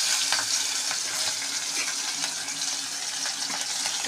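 Mango-ginger, green chilli and curry leaves fry in a pan with chana dal, turmeric and red chilli, giving a steady, close, hissing sizzle with small crackles throughout and no talk.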